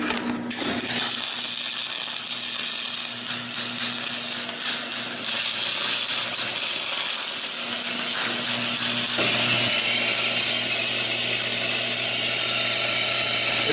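A cheap, basic welder lays a bead on thin aluminum, a steady close hiss and crackle with a low electrical hum underneath that grows slightly louder and rougher toward the end.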